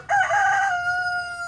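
A rooster crows once on a U-pick cherry farm in Oregon, a single loud, close cock-a-doodle-doo that rises sharply and holds a long, steady final note, with no talk over it.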